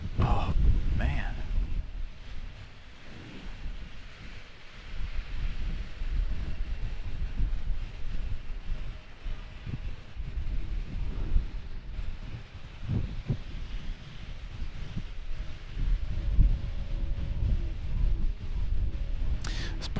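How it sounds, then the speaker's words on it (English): Wind gusting through the cables of a parking deck at an airport during a storm makes a low, eerie roar that swells and fades unevenly across the whole stretch. "This parking deck makes the eeriest sounds when it's windy like this, because of the wind blowing through the cables."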